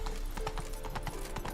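Horse galloping in The Witcher 3 video game, a steady run of quick clip-clop hoofbeats at moderate level with no talk over them.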